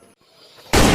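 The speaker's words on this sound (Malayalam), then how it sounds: "ആരെങ്കിലും പടക്കം പൊട്ടിച്ചതായിരിക്കും" A firecracker set off for the Vishu festival bursts suddenly after a near-silent moment, a loud, harsh blast that stays strong to the end of the clip.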